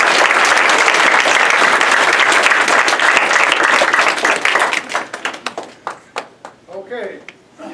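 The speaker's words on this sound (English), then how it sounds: "Give him a round of applause." An audience applauds warmly for a Vietnam veteran guest speaker at a school; dense, loud clapping holds steady for about four seconds, then thins into scattered individual claps and fades with a few voices.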